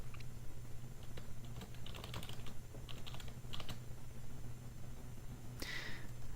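Fingers type a username on a computer keyboard, producing quick, irregular clicks in short bursts, close and fairly quiet, with a louder single tap near the end.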